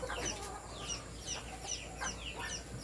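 Several chickens cluck in short, repeated bursts over steady background noise, with no talking.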